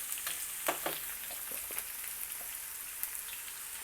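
Chopped onions go into a pan with garlic and fry quietly, a soft crackling hiss dotted with a few brief sharper pops, faint and without talk.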